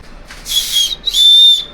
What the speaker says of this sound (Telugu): విజిల్ ఉంది